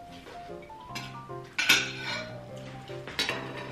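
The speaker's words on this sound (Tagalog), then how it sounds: "Dinala yung kaldero sa lamisa." A metal cooking pot holding chicken backbone adobo is carried over and set down on a table with two clear clanks, its lid and utensils clinking in between, close by and without talk.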